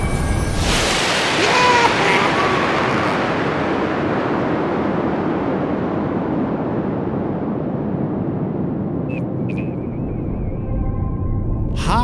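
A cartoon rocket ship lifts off into space with a sudden loud roaring blast that rumbles on continuously and slowly fades, close and dominant throughout, with a couple of faint tonal blips near the end.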